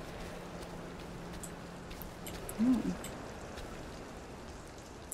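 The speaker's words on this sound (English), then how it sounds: "It's raining and it's about to be nighttime." Steady rain falling in the video game We Happy Few, a soft even hiss of drops on surfaces that holds throughout, with a brief spoken interjection partway through.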